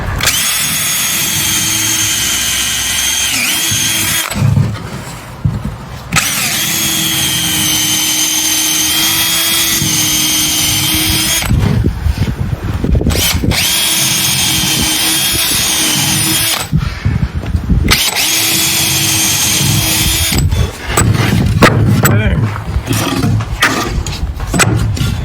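Power drill driving screws into wood while building a ramp launcher: a loud, steady whirring drill in long bursts, stopping briefly between screws, close by with no talking.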